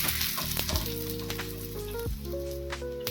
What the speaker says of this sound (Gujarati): આપણે પુડલાને શેકી લઈશું